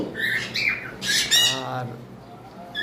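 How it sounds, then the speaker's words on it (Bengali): A cockatiel, a male in breeding condition, gives a series of loud, close squawking calls, several sharp bursts in quick succession. "কোকাটেল পাখি ডাকতেছে"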